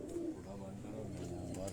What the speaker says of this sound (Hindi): ये कबूतर अभी हमने ज़रा थोड़े से बाहर निकाले हैं